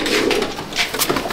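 Pigeons coo inside a pigeon loft at Barrackpore, layered low rolling murmurs from several birds close at hand, with faint rustling and no speech.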